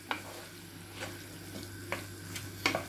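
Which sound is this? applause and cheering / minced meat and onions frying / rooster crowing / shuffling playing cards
minced meat and onions frying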